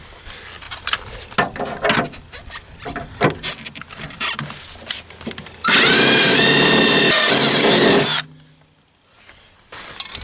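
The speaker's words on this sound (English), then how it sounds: "We'll drill a 1/4 inch hole with a 1/4 inch bit back here" A 1/4 inch bit drilling a hole in a Jeep Wrangler body during a fender flare install: a loud, steady power drill whine for about two and a half seconds after quieter handling noises, then stopping.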